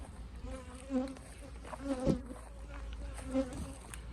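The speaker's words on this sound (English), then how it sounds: "its flying bees are going back over there" Honey bees flying around a hive in an apiary, a soft steady buzzing with several individual bees droning past close to the microphone in brief swells.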